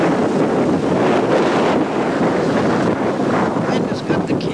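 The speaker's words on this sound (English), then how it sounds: "We got winds of about 30 miles per hour" Strong gusts of wind buffet the camera microphone outdoors near a courthouse on Long Island, in winds of about 30 mph, a loud continuous roaring rumble that swells and dips without letup.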